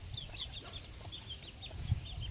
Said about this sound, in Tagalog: Sus grabe din ning manok diri oh.